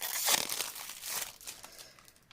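Scissors cut into the plastic wrapping of a card game, producing a close, brief burst of crinkling and tearing that fades over a couple of seconds.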